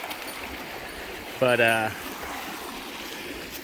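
Steady broadband rush of a cold mountain stream at the Big Laurel Run crossing on a wooded trail, flowing continuously while someone speaks a single brief word partway through.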